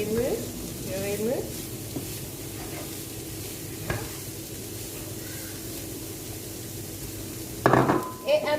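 Rice being stirred into a sizzling pan with a utensil, soft scraping and frying hiss throughout, a few sharper clinks of the spoon against the pan near the start and again at the end, no talking.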